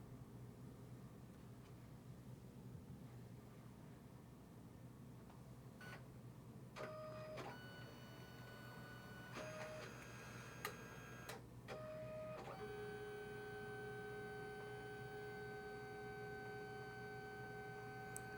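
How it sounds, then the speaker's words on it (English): Photo printer running a print of a Wilson's phalarope wildlife photo: a steady mechanical whir throughout, with short motor whines and chirps, then a sustained higher drone as the print passes through, alone with no talking. "I have a nice picture of a Wilson's phalarope loaded up, and I'm just gonna hit print."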